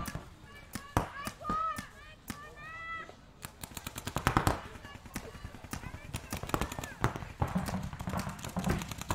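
Paintball markers pop in quick irregular volleys during a five-man tournament match, with near and distant shots overlapping in steady bursts under a commentator's voice.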